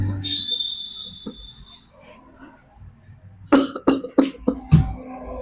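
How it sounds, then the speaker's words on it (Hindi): A man in a village doctor's clinic coughs in a quick burst of harsh, separate hacks near the mic, after a breathy stretch with faint voices in the background. "ये खांसी"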